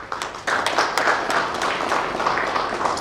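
Audience applause at an engineering, iron and steel industry report event starts abruptly after a brief pause, a close, loud patter of clapping hands that holds steady to the end.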